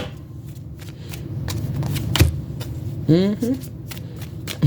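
Playing cards are shuffled in quick riffling bursts near the microphone, with a brief voice and a sharp knock partway through.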